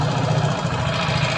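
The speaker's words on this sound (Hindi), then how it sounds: "आप देख सकते हो गाड़ी स्टार्ट है हमारी।" A TVS XL 100 BS6 moped engine, just started after an ECU reset, idles steadily up close with a low, continuous chugging hum and no break.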